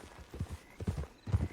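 Horse hooves clip-clopping at a walk in Red Dead Redemption 2, a few uneven low thuds with a brief pause mid-way, fairly close and moderately loud, no talk over them.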